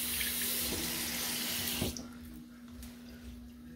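Bathroom tap running into a sink while a face is rinsed: a steady, close water rush for about two seconds, then it cuts off abruptly, leaving faint drips and splashes.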